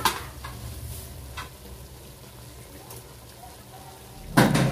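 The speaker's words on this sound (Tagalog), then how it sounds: "At halo ulit, mga Spartan." A spoon stirs a simmering dish seasoned with long green chili, producing soft scraping and a low steady sizzle. A louder clatter of the pan comes at the end.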